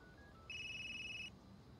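A phone in the video game Unheard rings out after a number is dialed, a single steady electronic ring tone lasting under a second, clear and moderately loud over a quiet background hum.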